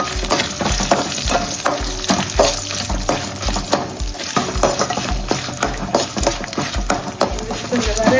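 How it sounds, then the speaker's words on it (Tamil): Cumin, pepper, fennel, dried chillies, cinnamon and cloves dry-roast in a pan for a Pallipalayam chicken gravy, giving a steady crackle with frequent scraping stirs, close and fairly loud. "ஜீரகம், மிளகு, சோம்பு, காஞ்ச மிளகா, பட்டை, லவங்கம் எல்லாம் போட்டு இது வறுத்துக்கு."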